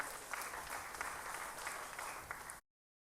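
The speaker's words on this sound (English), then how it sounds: "Give him a round of applause." An audience in a church setting breaks into sustained applause, a dense, fairly distant wash of clapping that runs evenly for a couple of seconds before cutting off abruptly.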